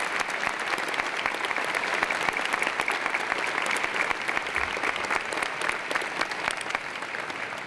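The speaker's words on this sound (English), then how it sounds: "Let's give the star students a great round of applause and their star teachers." A large audience at an annual meeting applauds star students and their teachers, a steady dense wash of many hands clapping for several seconds with no voices on top.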